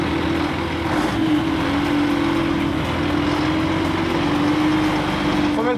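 A heavy HY van on its first drive after restoration, its engine running with a loud, steady drone and a constant low tonal hum at close range, with brief voices over it.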